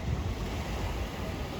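Ocean waves and wind at Sanur Beach in Bali make a continuous, dense roar of surf and gusting wind noise with no breaks, fairly loud and steady throughout.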